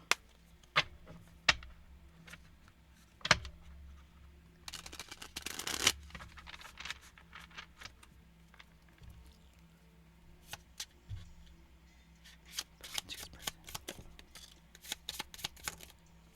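Quick, crisp bursts of tarot card shuffling come in several flurries, with sharp snaps and riffles separated by short pauses, close by and with no talking.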